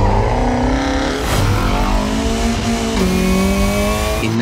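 A BMW M4 Competition sports car revs hard and accelerates, its engine note climbing in loud, steady harmonic sweeps with a brief squeal of tires, close and continuous with no talking.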